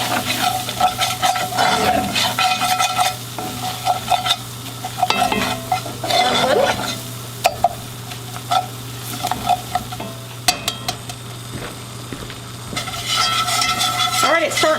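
Repeated scraping strokes of a spoon stirring flour and shortening as they brown in a pan for old-fashioned creamy mac and cheese, with an underlying sizzle, close and fairly loud, with a few sharper clinks and no talking.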